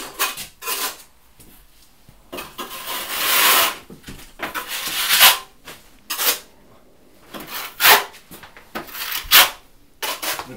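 Eco Stucco lime plaster being troweled onto a wall, heard as repeated scraping, rubbing strokes in irregular bursts, close and fairly loud, with no talking.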